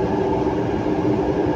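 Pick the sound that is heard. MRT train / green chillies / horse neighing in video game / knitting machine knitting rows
MRT train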